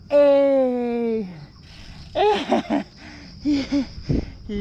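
Heavy, voiced panting from a rider just off a mountain bike on a climb: a long strained exhale, then several short, close, breathy gasps with pauses between them.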